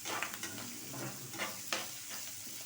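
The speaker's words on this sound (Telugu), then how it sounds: "ఇది బాగా చిట్పట్లాడుతున్నది." Tempering spices spluttering in hot oil for a Tirumala Tirupati temple-style chutney, a dense close sizzle with scattered sharp crackles and pops, no voices.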